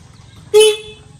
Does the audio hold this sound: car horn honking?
yes